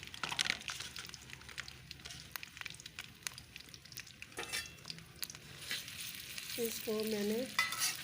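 Potatoes frying in hot oil for a bitter gourd and potato dish give a steady close sizzle with stirring scrapes and utensil clinks, and a brief voice comes in near the end.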